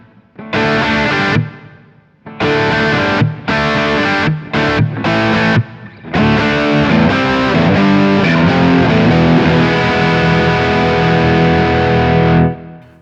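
High-gain electric guitar played through a Kemper profiler on a Friedman amp profile, loud and distorted, with choppy stop-start chords for the first few seconds and then a sustained riff ringing on to the end, no talking.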